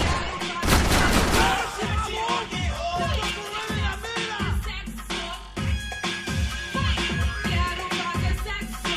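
Rapid, dense gunfire fills a Max Payne 3 shootout, with bursts of shots and booms rolling continuously, loud and close, while shouting voices cut through the chaos.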